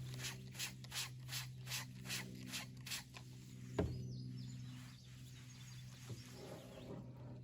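A razor blade scrapes wet fiberglass in a run of short rhythmic strokes, close and fairly quiet, then a sharper knock followed by a lower, steadier hum.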